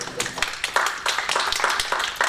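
Scattered clapping from a small audience at a university president's meet-and-greet, with irregular close claps and a few voices murmuring underneath, all over about two seconds.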